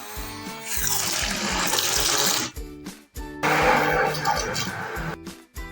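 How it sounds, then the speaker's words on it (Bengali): A hand blender whips milk with cream for custard ice cream, a loud whirring buzz running in two long bursts with a brief stop between them, close by. "এবার আমরা হ্যান্ড ব্লেন্ডার দিয়ে এটাকে ভালো করে ফেটিয়ে দেবো"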